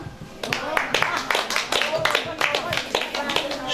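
Applause at a Kazakh cradle celebration (besik toi): a crowd claps in quick, uneven bursts that start after a brief pause and continue under a voice talking.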